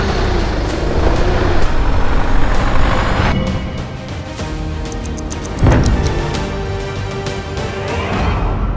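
A donated vehicle drives along the road, a loud constant engine and road rumble with a hiss of air around the middle and a faint rhythmic beeping later on.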